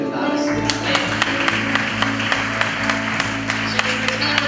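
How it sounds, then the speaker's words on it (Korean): A congregation at a church worship service for a university group claps along, with sharp, evenly spaced beats over sustained music tones that fill the hall in a steady rhythm. "영광의 박수 올려주고 나가겠습니다"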